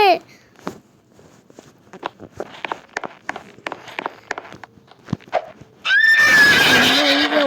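A horse in a Roblox prison obby game clip-clops in a quick string of hoof taps, then lets out a loud, drawn-out whinny at the end.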